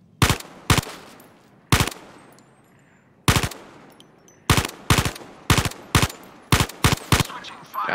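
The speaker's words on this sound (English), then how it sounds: "grab that rifle, load it, cock it, and shoot the targets" Rifle shots at targets in the VR shooter Zero Caliber: about a dozen loud, sharp gunshots, some single and some in quick pairs, spaced irregularly with short ringing tails and brief quiet gaps between.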